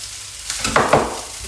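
Vietnamese rice noodles with MSG stir-frying in a pan, a short loud burst of sizzling with two quick stirring scrapes in the middle.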